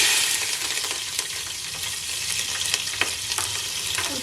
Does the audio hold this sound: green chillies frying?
yes